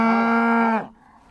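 A cow at a farm bellows one long, loud, close moo after her calf was taken away, then the call breaks off into quiet background.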